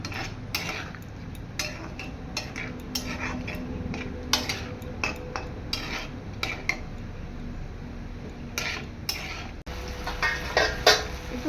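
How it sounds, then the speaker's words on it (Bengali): Stirring mete chorchori (goat liver curry) in a cooking pan, with steady scraping and clinking of a utensil against the pan over a low fan-like hum, with sharper knocks toward the end. "একটু নাড়বো যাতে কাঁচা গন্ধটা দূর হয়।"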